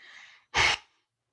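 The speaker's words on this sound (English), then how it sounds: "inhale." A single deep inhale during a yoga breathing exercise, a soft airy intake followed by a louder, forceful close breath lasting a fraction of a second, then silence.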